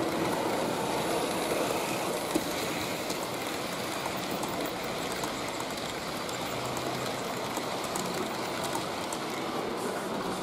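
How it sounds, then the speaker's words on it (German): Steady running rumble of a Trix Express model train with an old car-transporter wagon rolling along continuously, close by, with a constant whir and no voices. "Na, Hermine will auch ein bisschen Züge gucken, ne?"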